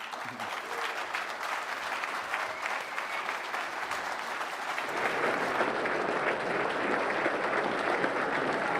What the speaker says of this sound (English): a standing ovation for Seamus O'Regan